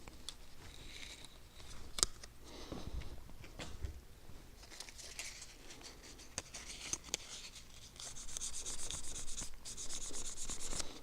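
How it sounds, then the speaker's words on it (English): 600-grit sandpaper scraping over slightly corroded guitar frets in short, light rubbing strokes, uneven in rhythm, close and fairly quiet, with occasional small clicks. "I'm lightly sanding these frets with 600 grit sandpaper"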